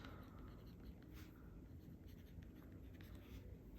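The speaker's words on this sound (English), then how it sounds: "So let me write that down." A pen scratches across the pages of a planner notebook in short, close, quiet strokes, continuing for a few seconds.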